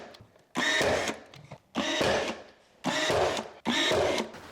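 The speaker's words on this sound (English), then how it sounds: "I guess I'm gonna start nailing it in" Four loud, broad bursts, each about a second long, sound up close with short gaps between them as trim goes in during a fixer-upper renovation. Someone is apparently nailing it in place with a power tool, and no one talks.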